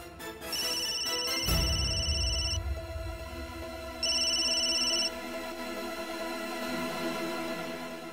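A telephone rings in a domestic drama scene, two bursts of bright electronic trilling separated by a pause, heard clearly over a soft background music bed with no voices.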